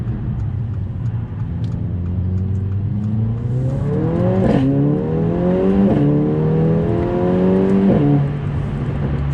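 A Mercedes-AMG A45 accelerates hard, its engine note climbing through gears with brief sharp cracks and pops at each shift, loud and close over a droning rumble.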